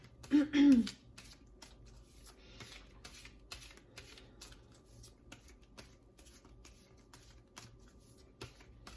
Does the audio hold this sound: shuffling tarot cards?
yes